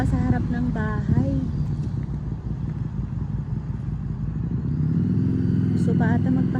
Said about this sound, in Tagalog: Parang naririnig ko na yung motor niya.